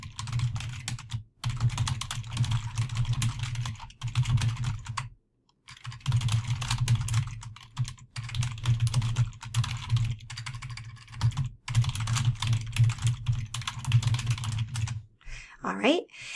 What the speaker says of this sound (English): So you want to type in a quick note.